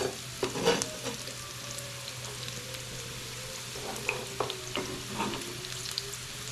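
Onion fries in a pan with a steady low sizzle, a few stirring scrapes and clicks near the start and middle, and a faint constant hum underneath.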